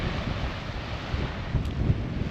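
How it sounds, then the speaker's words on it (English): Steady wind buffets the microphone with a low rumble at Seal Harbor, Maine, with a constant outdoor wash like distant surf behind it. "it's pretty windy over here"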